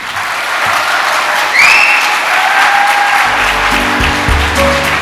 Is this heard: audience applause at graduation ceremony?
yes